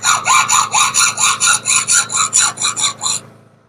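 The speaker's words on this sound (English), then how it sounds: "So I've got some filing in there, cut it, scored it, break it." A file rasps back and forth across a glass neon tube to score it, making about a dozen close, loud, evenly spaced scraping strokes that stop abruptly.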